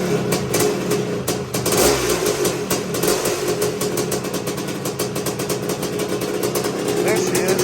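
A rebuilt Honda TRX250R ATV engine runs close by, idling roughly and revving in uneven bursts, with voices talking over it.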